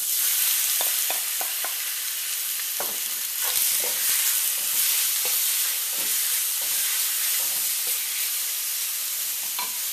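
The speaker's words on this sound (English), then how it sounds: "You're doing a stir fry, you might as well use a little wok." Marinated pork pieces sizzle and fry in vegetable oil in a wok, a loud steady crackling hiss broken by repeated scraping stirs, with no talking.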